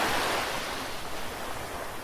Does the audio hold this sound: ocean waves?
yes